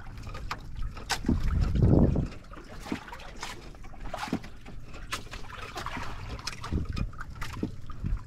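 A small Filipino bangka boat moves over open sea with wind buffeting the microphone, sloshing and splashing throughout, with a louder rush of wind early on.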